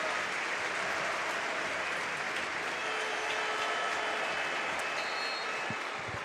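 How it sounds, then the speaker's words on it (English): A large football stadium crowd applauds in a steady, unbroken wash of clapping that fills the whole stretch, heard from a distance. "Generous applause for both."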